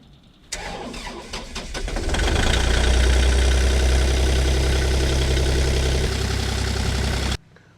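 A mini excavator's engine cranks briefly, catches and settles into a loud, steady, low rumbling idle as it warms up. It runs close by and alone for several seconds before cutting off.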